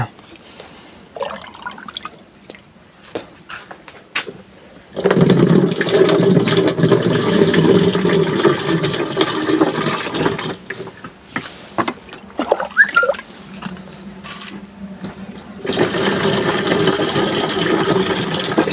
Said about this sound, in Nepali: यस्तो चाहिँ अब यहाँ पानी यसरी हार्नुपर्छ।